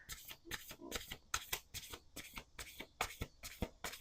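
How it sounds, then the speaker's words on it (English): A deck of cards riffled and shuffled by hand, a quick series of crisp, papery bursts in steady rhythm, close but fairly soft. "Last shuffle."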